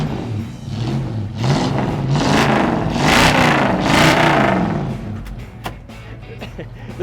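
A 1967 Mustang Coupe's V8 engine revs up and down in several rising and falling swells, loud and close, then settles back to a low rumble.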